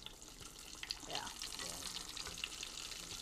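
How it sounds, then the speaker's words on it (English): Food frying in oil in a studio cooking show kitchen, a steady bright hiss and crackle with occasional pops, while people talk nearby. "That's why I'm doing the frying."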